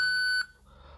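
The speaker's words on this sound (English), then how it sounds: "Please leave a message after the tone." A voicemail recording tone on a mobile phone: a single steady electronic beep lasting under half a second, loud and clean, then cutting off to quiet line hiss.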